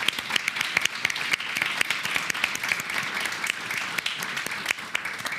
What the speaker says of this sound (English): let's give a big round of applause for all of our talents